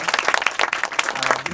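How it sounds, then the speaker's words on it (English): A panel discussion audience breaks into brisk applause, dense individual claps close and lively through a short burst. "can we have a huge round of applause for this day?"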